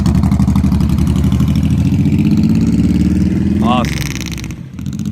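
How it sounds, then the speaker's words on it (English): Two motorcycles idle steadily nearby, their engine rumble swelling with a brief rev before settling, under continuous crowd chatter and voices. "Got a couple bikes."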